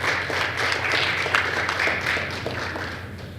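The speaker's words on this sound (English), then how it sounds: "Give her a round of applause even though she's not here." A small audience at a press briefing for the 2014 CARIFTA athletics team gives a brief round of applause, moderately faint and steady, tapering slightly toward the end.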